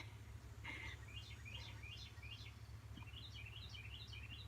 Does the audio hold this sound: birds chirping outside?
yes